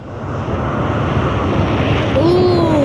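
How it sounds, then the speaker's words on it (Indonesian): Strong wind roaring near the top of a tall Roblox fan tower, a loud steady gusting rush with a rising whistle toward the end, heard alone with no talk. "Anginnya banter sekali"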